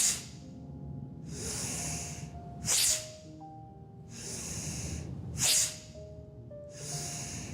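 Long, steady breaths move in and out in a slow rhythm during a gentle morning stretching routine, with a sharper, forceful puff on two of the breaths. They are close to the microphone and no one speaks.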